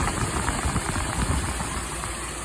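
Carbureted engine of a 1974 Winnebago Brave D19 motorhome, fitted with a rebuilt aftermarket Demon racing carburetor, MSD ignition and Jacobs coil, running steadily up close with an even, slightly knocking idle rumble and no talk.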